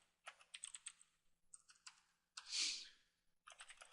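Typing on a computer keyboard while writing CodeIgniter code, heard as close bursts of rapid key clicks in uneven clusters, with a louder single clack midway and short pauses between runs.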